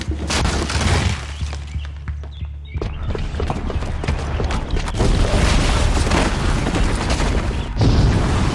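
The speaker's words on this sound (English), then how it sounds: "the booby trap on the bomb downstairs is gonna get set off" A bomb booby trap detonating in the video game Horizon Zero Dawn: loud, dense rumbling blasts with a brief lull, then sustained crashing debris and clattering noise throughout.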